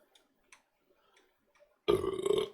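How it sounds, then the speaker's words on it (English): After near-silence with a few faint ticks, a single loud, rough burp bursts out close by and lasts about half a second. "was that burp?"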